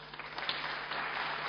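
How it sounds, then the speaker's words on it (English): An audience at an Android developer workshop gives a short burst of applause, a brief dense patter of clapping heard faintly. "Applause for Util Translator."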